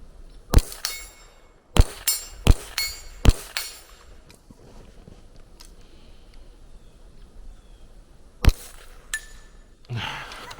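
Suppressed .22 rimfire rifle shots through an AnechoX can at a 10-inch steel target at 50 yards: five sharp, close cracks in quick irregular succession, then a pause, one more shot and a final burst of clatter.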